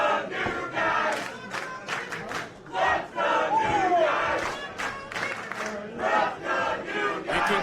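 A pro wrestling crowd at a Glory Pro match in Lykos Gym yells and cheers in surging waves, loud and close, rising and falling through the whole stretch.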